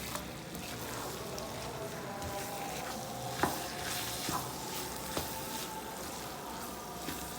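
Onion keema is stirred and mixed in a pan, with steady close sizzling and frying under occasional soft scrapes and clicks of a spoon.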